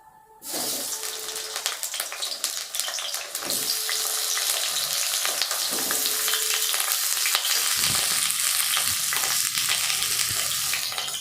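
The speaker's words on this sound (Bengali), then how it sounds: "তেল গরম হয়ে গেছে, এবার আমি পটলগুলো তেলের উপরে ছেড়ে দিলাম।" Pieces of pointed gourd hit hot oil and break into a loud, steady sizzle of frying that swells and holds, with occasional stirring clatter and no voices.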